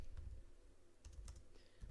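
Faint typing on a computer keyboard at a desk during coding work, a few soft scattered key clicks over low background hum with no talking.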